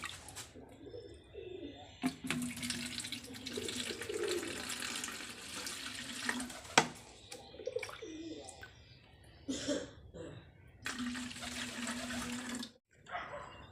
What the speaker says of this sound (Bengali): চলো জলটা ভরে নিই, এই যে এটাতে করে জল দেবো।